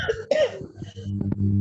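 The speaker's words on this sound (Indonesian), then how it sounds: "Ada itu batuk." A woman coughs a few times in quick, sharp bursts up close, followed by a rougher, throaty trailing sound.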